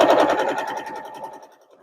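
A sewing machine runs in a short, fast rattling burst as it stitches bias binding fed under the presser foot, loud and close, then trails off and slows toward the end.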